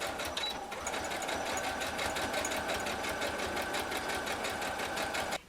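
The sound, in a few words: sewing machine stitching upholstery backing piece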